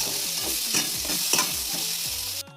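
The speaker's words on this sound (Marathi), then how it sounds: "त्याच कढईमध्ये त्या तेलात आपल्याला टोमॅटो परतून घ्यायचा आहे" Tomatoes sizzle in hot oil in a wok while a utensil stirs them, with a few scraping strokes over the steady frying.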